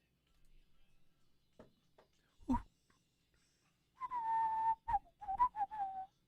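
After a few soft taps and rustles, someone whistles a short tune of several clear notes, close and fairly quiet.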